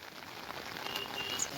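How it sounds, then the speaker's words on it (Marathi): Steady, dense hiss of heavy rain pouring down on surfaces, constant and enveloping throughout. "लय पाऊस आहे बाई"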